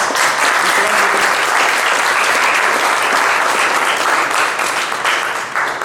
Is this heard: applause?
yes